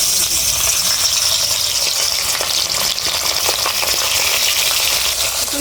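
Fish seasoned with salt and turmeric sizzling steadily in hot oil, a dense, continuous crackling fry close by that holds level throughout.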